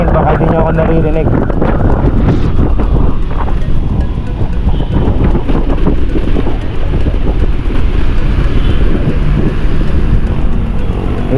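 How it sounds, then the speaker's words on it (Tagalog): Heavy wind buffets the microphone on an e-bike riding along EDSA in Makati in a constant low roar, with road or engine rumble mixed in and a voice speaking underneath. "Medyo malakas na pala yung hangin"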